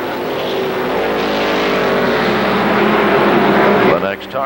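ARCA supercars racing at Kil Kare Speedway, a dense continuous engine roar from a pack of cars with a commentator speaking over it, fading near the end.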